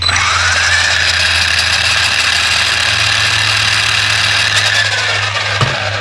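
Newly replaced motor in a Traxxas E-Revo 2 RC car running steadily, a loud, continuous electric whine with a low hum, holding constant throughout with no talk.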